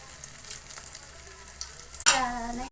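Aloo tikki patties frying in a little oil in a pan, a low steady sizzle that suddenly flares louder near the end as more go in, with a brief clatter.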